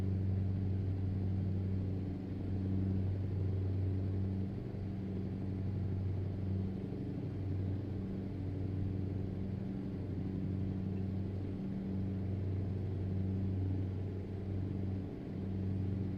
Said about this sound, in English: Renault T improved engine sound mod is very good.